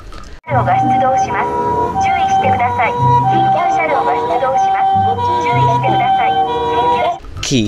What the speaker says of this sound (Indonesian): Ini mobil ambulan, teman-teman